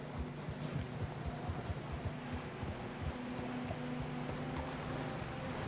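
Horse hooves clip-clop at a steady walking rhythm in Red Dead Redemption 2, fairly quiet and close over a faint low hum.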